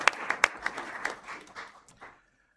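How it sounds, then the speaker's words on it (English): A small audience at a university board of trustees meeting claps for the retiring interim nursing dean: a few sharp, distinct claps at first, then thinner scattered clapping that fades out after about two seconds. "Let's give her a round of applause."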